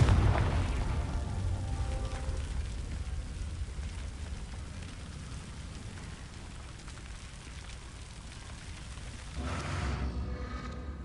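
Fiery blast from the Confringo spell in Hogwarts Legacy, a dense roaring crackle like a sustained explosion that rumbles steadily for several seconds before a brief surge near the end.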